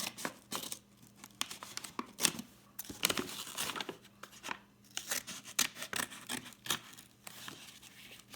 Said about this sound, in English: I cut these excess things off too